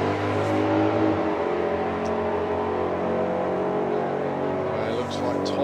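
A Challenger drag car launches down the Santa Pod strip with a loud, sustained engine roar and a broad mechanical drone, while a commentator talks over it throughout.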